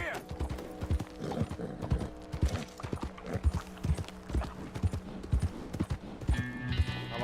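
A horse walking in Red Dead Redemption 2, its hooves clip-clopping in a steady close rhythm, with a neigh and faint mechanical clicks near the end.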